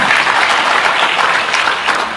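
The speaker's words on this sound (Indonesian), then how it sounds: "Tepuk tangan dong buat Tuhan." A church congregation at a sermon claps loudly and continuously in a thick, even wash of applause throughout.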